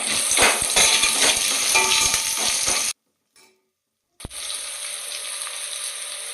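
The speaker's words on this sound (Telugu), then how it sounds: "ఇంగు వేసుకొని మంచిగా ఫ్రై చేసుకోవాలి" Curry leaves and asafoetida frying in hot oil for a pumpkin sambar tempering: a steady, close, loud sizzle with light stirring clatter, cut by a short silent gap before the sizzling resumes.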